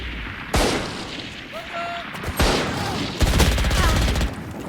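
Gunfire in the tactical shooter game Valorant: sharp bursts of rapid automatic shots, loud and close, broken by short pauses between sprays.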